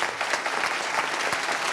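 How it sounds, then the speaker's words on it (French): Dense, even applause from an audience at a political talk event featuring Benoist Apparu, a steady wash of many hands clapping without a break, with no talking over it. "Donc applaudissez-les."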